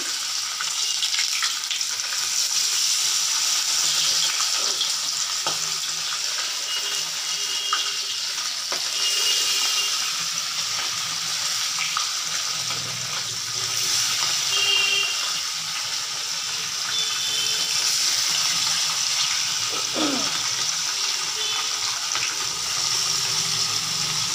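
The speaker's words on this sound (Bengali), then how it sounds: "তেলটা গরম হয়ে গেছে। এবার একটা একটা করে মাছ দিয়ে দিচ্ছি।" Parshe fish pieces frying in hot oil: a continuous, loud hiss of sizzling oil, close by, with faint bubbling swells throughout and no voices.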